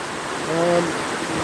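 Heavy rain driven by strong wind during a storm in Phulpur makes a steady, dense broadband hiss with a faint voice briefly murmuring underneath.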